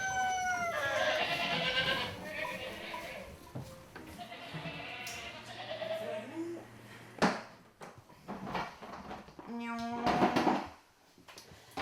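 Goats bleat repeatedly on a French cheese-making farm, several harmonic calls near and far, with a loud bleat late on, over rustling barn noise and a brief low hum.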